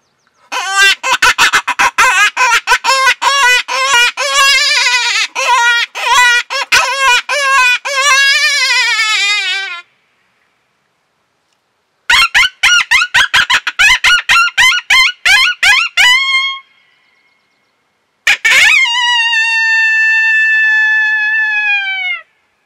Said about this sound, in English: It's a very versatile open reed call.